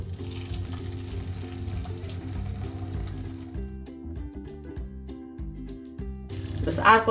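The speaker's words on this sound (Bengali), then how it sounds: "ফ্রাই প্যানে বেশ কিছুটা তেল দিয়েছি, ডুবা তেলে ভাজবো।" Samosa pinwheels dipped in flour batter deep-frying in plenty of oil in a frying pan over medium-low heat, a soft continuous sizzle beneath background music and a speaking voice.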